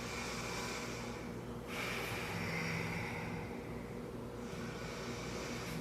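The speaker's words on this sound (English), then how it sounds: "take a few breaths in and out" Slow breaths in and out during a yoga fish pose, soft and close, with a long exhale, a pause, and another audible breath cycle over a quiet room.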